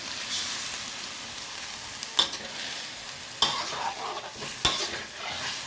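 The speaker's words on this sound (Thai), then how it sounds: "ผัดจนกว่าหมูจะนุ่มนะคะ" Pork belly and lemongrass stir-frying in a pan, a dense continuous sizzle close up, with a few sharp scrapes and taps from a spatula breaking through every second or so.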